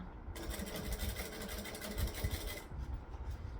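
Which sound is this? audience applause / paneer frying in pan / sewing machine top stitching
sewing machine top stitching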